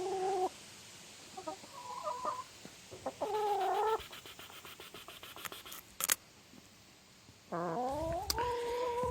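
Chickens cluck and a rooster gives short, wavering calls nearby, in scattered bursts broken by pauses. The calls are moderately loud against a quiet background.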